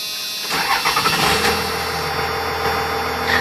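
A 1997 Dodge Ram 3500 with a 5.9 Cummins 12-valve turbo diesel cold-starts: a brief starter crank, then the engine catches and settles into a loud, steady, rattly diesel idle close by.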